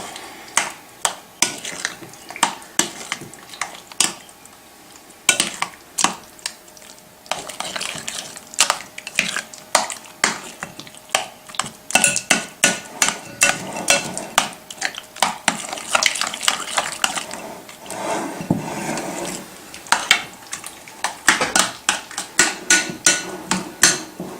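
A spoon beats and stirs hot crab dip ingredients, including room-temperature cream cheese, in a bowl, producing rapid, steady clacks and scrapes against the sides that continue almost without pause and speed up toward the end.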